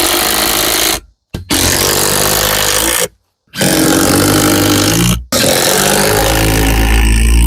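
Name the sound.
power drill driving screws into wooden archery target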